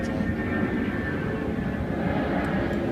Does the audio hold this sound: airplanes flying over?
yes